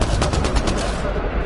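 Loud, close automatic gunfire in Mass Effect: Andromeda, a rapid stream of shots in one dense burst that tapers off at the end.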